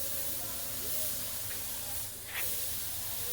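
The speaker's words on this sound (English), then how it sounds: "This dude's over here spray painting the... Is that paint? Look at the overspray just coming." A steady, loud spray-paint hiss of overspray fills the scene continuously, with a faint mechanical hum underneath and a brief surge of spray near the end.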